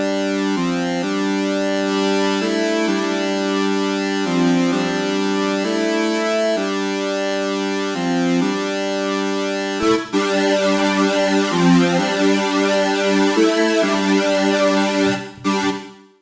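A synth melody with reverb applied in FL Studio for hardcore music: sustained bright tones shifting through a sequence of notes, washed in lingering tail, loud and alone before ending in a short decay.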